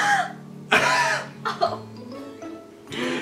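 Someone coughs in short, harsh bursts several times during a messy eat-it-or-wear-it food challenge, loud and close, with pauses between the fits.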